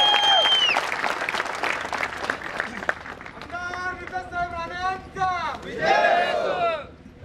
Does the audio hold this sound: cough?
no